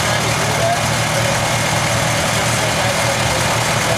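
A tractor engine idles steadily after warming up, loud and close, with a continuous low rumble and no breaks, at a tractor show gathering.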